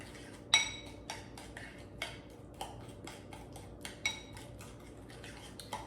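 A utensil stirs a meatloaf mixture in a bowl, giving a soft, regular series of clinks and taps against the dish roughly every half second, quiet and close, with no talking.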